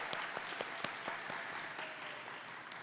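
An audience applauds steadily at a nursing pinning ceremony, with dense, even clapping that fills the whole stretch and holds at an even level to the end, and no voices rise above it.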